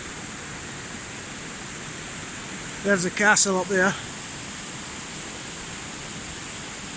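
A waterfall in Dollar Glen near Castle Campbell gives off a steady, broad rushing roar that runs through the whole stretch, while someone speaks briefly over it partway through.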